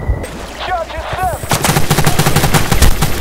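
Rapid automatic gunfire rattles in the video game Battlefield Bad Company 2, loud and close in a dense sustained burst after a brief lull with whooshing effects, with no talking.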